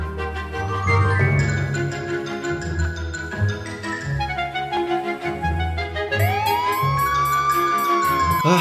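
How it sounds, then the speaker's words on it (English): An ambulance siren wails over busy background sound, rising in pitch and swelling louder near the end, with no one speaking. "Looks like the hospital just got an emergency ambulance."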